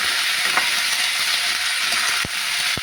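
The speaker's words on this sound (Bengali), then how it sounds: "আলু, ফুলকপি আর গাজর দিয়ে দিচ্ছি, নাড়ছি।" Potato, cauliflower and carrot fry in hot oil for vegetable khichuri, a steady close sizzle with a couple of sharp scrapes as the pieces are stirred, no talking.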